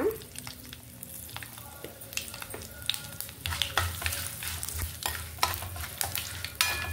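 Tempering of curry leaves, turmeric and asafoetida frying in oil for amla roti pachadi, a close crackling sizzle full of sharp pops and spatters, busier toward the end, with no talk.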